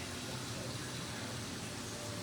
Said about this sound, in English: I'm going to let this water here out.